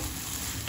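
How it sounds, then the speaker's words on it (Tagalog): Chopped onions sauté in melted butter in a pan, giving a steady, close, dense sizzle with no talking. "Bigisa natin yung ating sibuyas."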